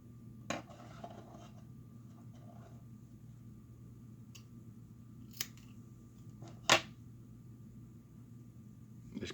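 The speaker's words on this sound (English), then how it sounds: "so let's cut us a little piece off of it" Scissors snip a small piece of bucktail hair in a few sharp, separate clicks over quiet background hum, with one louder cut standing out.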